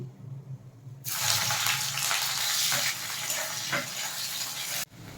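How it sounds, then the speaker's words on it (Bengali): Chopped onion tipped into hot oil already fried with a bay leaf, a halved dried red chilli and panch phoron, bursting into a loud, hissing sizzle that holds steady for several seconds, then cuts off abruptly. "এবার দেব পেঁয়াজ কুচি"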